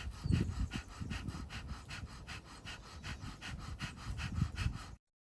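Rapid breath of fire pranayama from a kundalini yoga breathwork session: quick, steady rhythmic exhales through the nose, close and soft, sounding like fast panting and continuing for about five seconds before stopping abruptly.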